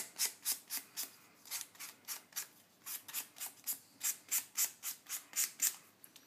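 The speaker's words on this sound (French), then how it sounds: "je vais juste utiliser les ciseaux pour faire une petite pointe" Scissors snip repeatedly at a craft piece being trimmed to a small point during stamp colouring with liquid inks, roughly twenty crisp, close, quiet cuts in a quick, even rhythm with no talk.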